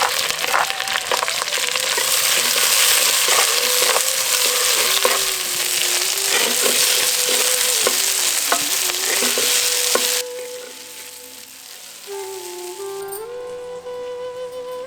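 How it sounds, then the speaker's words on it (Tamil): Dried red chillies with their seeds removed, curry leaves and 250 grams of shallots sauté in three spoons of sesame oil for Pallipalayam chicken, giving a steady close sizzle with stirring scrapes that drops quieter after about ten seconds. "இப்ப 3 தேக்கரண்டி நல்லெண்ணெயில விதையெல்லாத்தையும் நீக்கி வச்சிருந்த வரமிளகாய், கொஞ்சம் கறிவேப்பிலை, 250 கிராம் சின்ன வெங்காயம் சேர்த்து நல்லா வதக்கிட்டு"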